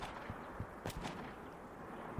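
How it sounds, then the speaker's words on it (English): Several sharp gunshot cracks ring out at uneven intervals during an execution scene. They sound moderately close, with bursts near the middle, and no one speaks. "Wall, Elias, and Pliant immediately head to where the gunshots were fired"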